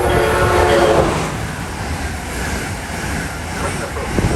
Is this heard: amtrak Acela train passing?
yes